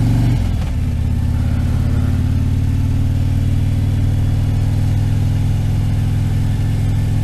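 A motorbike engine runs steadily and close on a foggy day, a loud low rumble with a slight rev near the start, holding at an even idle-like drone throughout with no talking.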